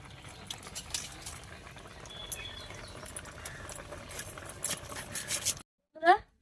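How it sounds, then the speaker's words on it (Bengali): A pot of shukto, a Bengali vegetable curry finished with ghee, bubbles steadily on the stove in a soft, continuous patter, with a person talking over it before a brief pause. "এবারে শুক্তোটা ভালো করে আরেকটু ফুটিয়ে নেব"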